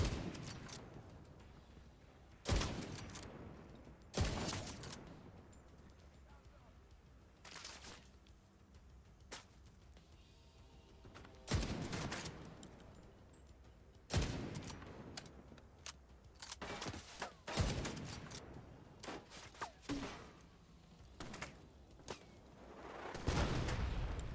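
Bursts of gunfire in The Division 2, with a few loud sharp shots standing out against a dense background of game noise and scattered firing across the stretch, and no talk.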